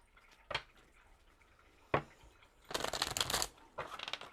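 A deck of playing cards being shuffled and riffled in a few separate bursts, close and crisp, with quiet gaps between the handling sounds.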